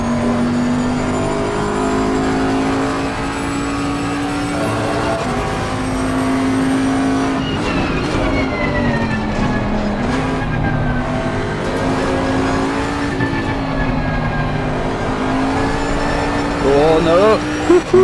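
A race car engine in Assetto Corsa Competizione at Spa, racing against AI, drones loudly and steadily, rising and falling with shifts and revs, with tyre squeal near the end.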